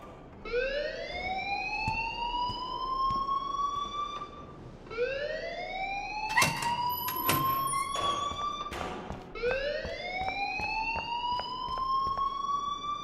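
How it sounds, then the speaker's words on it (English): A school alarm in Life is Strange wails in three rising siren sweeps, loud and repetitive, with some clattering noises between them. "please turn off that alarm since that's your job"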